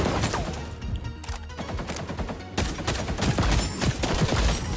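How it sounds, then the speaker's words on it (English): Rapid bursts of automatic gunfire in the shooter game XDefiant, dense and loud, crackling in overlapping volleys throughout with no pauses. "Oh, they're shooting. They're shooting."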